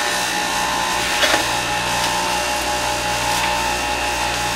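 Spinach going through a running electric juicer, a steady mechanical whir with a low hum and a grinding, rubbing texture, with a couple of brief louder scrapes and no speech.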